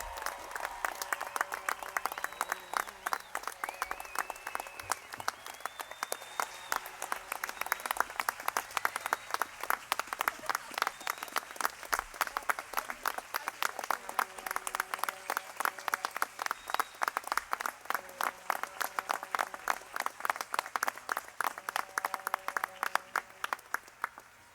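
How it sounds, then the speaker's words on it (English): An audience at a university commencement ceremony applauds graduates with sustained, dense clapping that holds steady for many seconds, heard at a distance in a large hall. "Please let's give one big round of applause and recognize these fabulous graduates"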